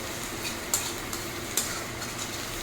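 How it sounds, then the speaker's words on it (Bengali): Crushed ginger and garlic frying with onions in a pan, a steady low sizzle with a few light scrapes of a spatula stirring, close and unaccompanied by speech. "যতক্ষণ না আদা রসুনের কাঁচা ভাবটা যাচ্ছে ততক্ষণ কিন্তু ভেজে নিতে হবে"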